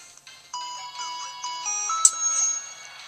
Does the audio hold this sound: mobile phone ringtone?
yes